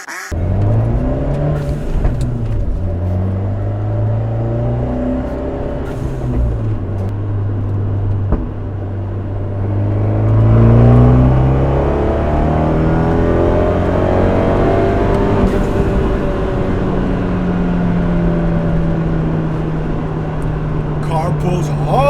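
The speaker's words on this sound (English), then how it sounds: "Car pulls hard." A turbocharged Fiat 124 Spider Abarth accelerates hard, its engine note climbing steadily through the revs and then shifting, heard loud and close from inside the car with road and wind noise throughout.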